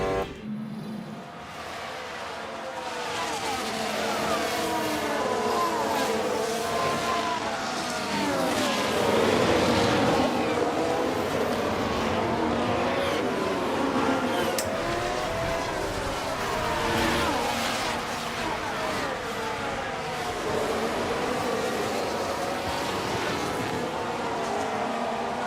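Formula 1 race cars from the F1 Manager 24 game at Bahrain, their engines wailing in a continuous, loud dense mix of several cars running close together through the opening laps, with no voices over the steady roar.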